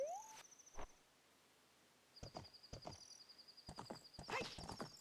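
Horse hoofbeats and whinnies from the video game The Legend of Zelda: Ocarina of Time, with a short neigh near the start, then repeated galloping clip-clops alongside game chimes and effects.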